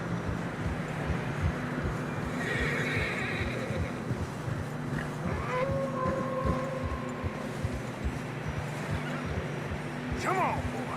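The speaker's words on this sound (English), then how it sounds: "Horses are struggling." Horses whinny and snort while trudging through deep fresh snow in the Western game Red Dead Redemption 2, with a steady crunching, shuffling gait and game music beneath; a rising whinny stands out near the end.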